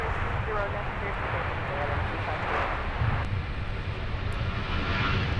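An airliner roars down the runway at Minneapolis–Saint Paul airport on takeoff, a loud steady engine rumble with wind buffeting the microphone, while radio chatter and voices run beneath it.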